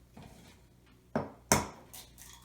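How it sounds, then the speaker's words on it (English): An egg is cracked close up with two sharp knocks against a hard edge, followed by a soft wet crack and a faint drip. "We're going to crack an egg"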